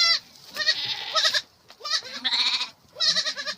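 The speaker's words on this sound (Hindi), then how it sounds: "ये बकरियां 6-7 महीने बुग्यालों में रह के आती हैं और ये आज गांव में आ गई हैं।" Goats returning from high pastures to a Himalayan mountain village in Uttarakhand bleat repeatedly, several loud, wavering calls overlapping close by, with brief gaps between them and no talk.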